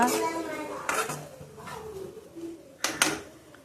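Ingredients for mint chutney sizzle and scrape in a pan with salt added, giving clattering utensil-on-pan knocks and stirring scrapes in bursts, fairly close, with a short metallic clink near the end.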